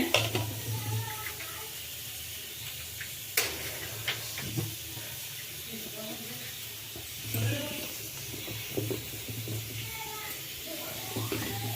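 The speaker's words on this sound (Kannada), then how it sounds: "ಈಗ ಈ ಮಸಾಲೆ ಎಲ್ಲ ಹುರ್ಕೊಳ್ತೀನಿ." Masala spices frying in a pan for a sprouted horse gram curry, a steady low sizzle with occasional stirring scrapes and clinks throughout, close and moderate in volume.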